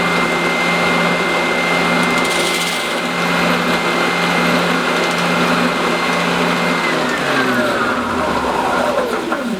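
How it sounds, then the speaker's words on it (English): A power drill bores at an angle through a workpiece held in a shed-built jig, a loud steady motor whine that runs at constant pitch before winding down at the end, close and with no talk. "that will enable me to drill those at an angle"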